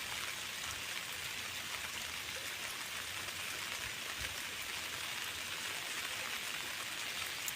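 Heavy, muddy monsoon rain pours steadily over a creek during a fishing outing in the Konkan, a dense unbroken hiss filling the whole stretch with no voices.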